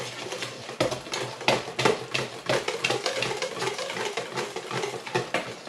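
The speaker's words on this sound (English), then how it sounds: "Give that a good whisk" Sweet potato pie filling whisked by hand in a bowl: a steady run of quick, irregular scraping and tapping strokes, close and moderately loud, with no talking.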